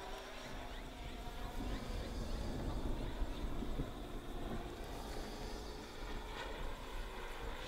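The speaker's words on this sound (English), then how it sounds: "Tug landing." A tug aircraft lands at a glider airfield in Bairnsdale, making a steady, fairly loud engine and wind rumble that holds level throughout with no clear change.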